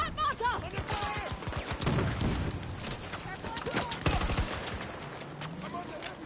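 Battlefield 2042 gunfire, loud rapid bursts of automatic fire and scattered shots in a busy firefight, with voices talking over the shooting throughout.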